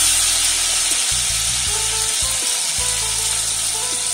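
Onion frying in a pan with soy sauce and chili sauce, a loud, steady sizzle running unbroken throughout, with faint stirring scrapes and low clunks underneath.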